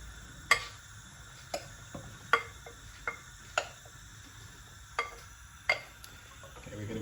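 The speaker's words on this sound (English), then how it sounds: "I'm going to put our mushroom into the pan." White button mushrooms going into a pan and being stirred: a run of sharp, regular utensil taps and clicks against the pan, fairly quiet, with a faint sizzle underneath and no talk.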